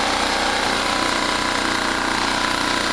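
A portable generator engine runs at a steady, loud, even drone with no letup, heard close up with no voices.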